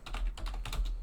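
Quick bursts of keystrokes on a computer keyboard as a short note is typed, close and fairly soft, with uneven clicks and no talking.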